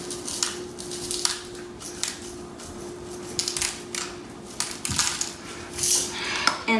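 Colorful sprinkles shaken onto cake pops from a cake pop maker, light scattered clicks and rattles in short bursts over a steady background hum, close and fairly soft.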